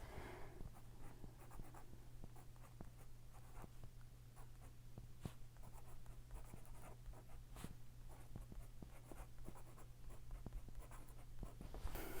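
Colored pencil writing on paper: faint, close scratchy strokes in quick irregular bursts over a steady low hum, with no talking.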